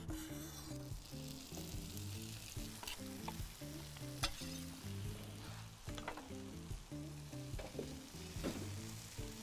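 Vegetables frying in a pan on a grill, a steady close sizzle with stirring and scraping throughout, no talk.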